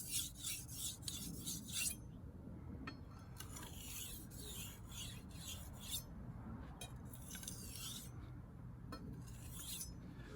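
A knife being sharpened on a Jasper whetstone, a fine polishing stone, with repeated rhythmic gritty rasping strokes, close and quiet, in bursts separated by short pauses.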